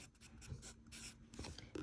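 A medium charcoal pencil drawing on paper, faint scratchy strokes in short repeated bursts, quiet and close with no talking.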